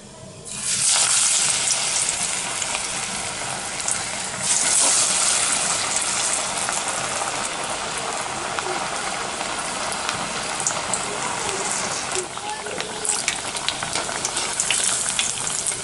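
Parippu vada, Kerala-style lentil fritters, fry in hot oil over a low flame with a steady, loud sizzle that runs unbroken for the whole stretch, swelling briefly as each new piece drops in.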